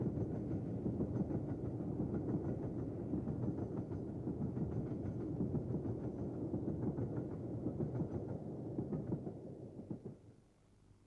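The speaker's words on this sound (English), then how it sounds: "we next see the second of the pair, Bahamas, again at work on a train heading to Settle and Carlisle" LMS Jubilee steam locomotive Bahamas, fitted with a large double exhaust chimney, hauling a train on the Settle and Carlisle line; a loud, continuous rumbling roar of the passing train with rapid exhaust beats, fading away at the end.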